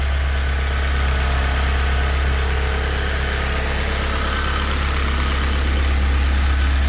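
A Honda CRX with a K24 engine idles smoothly with a steady low rumble and even vibration, constant and close, with no voices.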